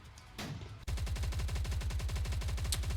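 Rapid automatic machine-gun and shotgun fire from anime girls shooting: a sharp burst, then a continuous steady rattle of shots near and loud.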